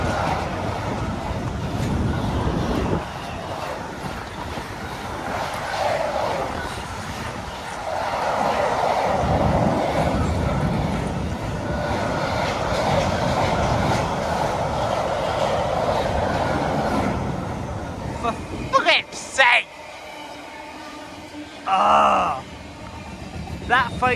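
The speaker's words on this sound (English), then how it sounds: "We have two freight trains at the same time." Two freight trains passing each other at Bletchley station, a long steady rumble of rolling wagons with some clanking, fading near the end, with people talking over parts of it.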